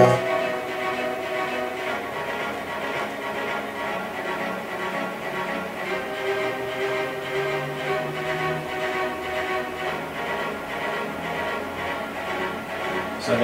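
Spitfire Studio Strings short spiccato strings in an orchestral cue, a dense pulse of quick bouncing bow strokes repeating steadily at moderate loudness throughout.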